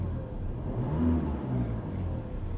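Land Rover Discovery Sport engine revving up as the accelerator pedal is pressed, a steady mid-low drone that swells slightly in the middle, heard up close with no talking.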